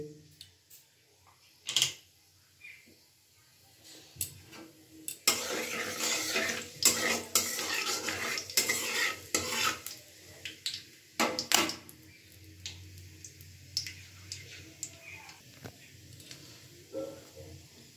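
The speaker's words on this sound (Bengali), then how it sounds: "তেলেতে দিয়ে দিচ্ছি ফোড়নে কালো জিরে" Nigella seeds hit hot oil in a wok and burst into a strong, spluttering sizzle lasting several seconds, then fade to a softer crackle, with a few utensil clinks before and after.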